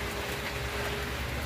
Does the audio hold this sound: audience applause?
no